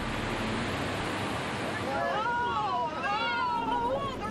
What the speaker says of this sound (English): The surging water quickly erodes the soft soil along the banks, and inch by inch, the earth supporting the houses disappears into the flood.